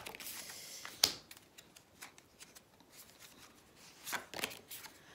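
Tarot cards are tapped and straightened by hand, giving a sharp click near the start and several soft, scattered shuffles and taps close by, faint against a quiet room.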